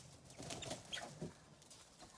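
Chickens cluck and squawk in a busy coop, with young roosters fighting, making scrappy, short calls and some wing flapping amid steady background noise.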